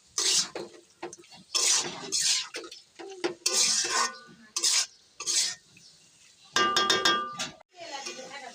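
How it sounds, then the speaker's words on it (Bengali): Chicken pieces with spices stir-fried in a pot for biryani, with repeated bursts of scraping and stirring, a sizzling undertone and clattering utensil knocks in an uneven rhythm, close and fairly loud. "এখন মাংস সুন্দর করে কষিয়ে নেব ভাজি ভাজি করে।"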